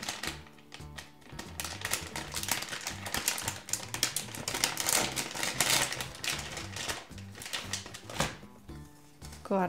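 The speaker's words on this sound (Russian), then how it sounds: "Следующий откроем пакетик с сюрпризом Sonic 2." Hands open a Sonic 2 surprise packet: dense crinkling and rustling of a plastic wrapper with quick tearing and shuffling bursts throughout, close up and fairly quiet.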